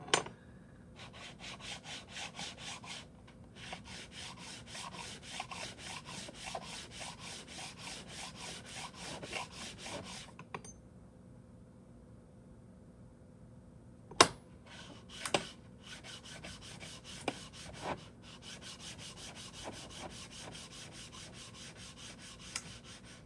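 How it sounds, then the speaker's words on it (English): Worn sandpaper rubs back and forth on a surface in quick rhythmic strokes, a soft close rasp that pauses briefly midway and then resumes, with a few sharp knocks, no talking. "Sandpaper's probably about done for, but it'll probably be good for this project."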